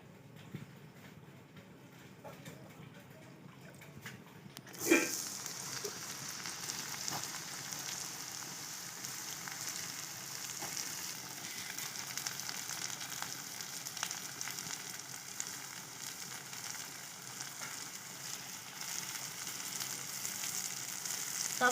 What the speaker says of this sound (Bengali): সব সবজিগুলো দিয়ে দিলাম। এবারে আমি ভালো করে ভেজে নেব।